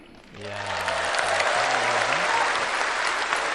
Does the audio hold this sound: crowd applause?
yes